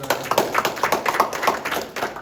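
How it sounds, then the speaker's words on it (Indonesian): An audience at a community meetup in Surabaya claps for a guest with brisk, close rhythmic claps that run loud and steady for two seconds. "tepuk tangan untuk Pak Chandra Purnama"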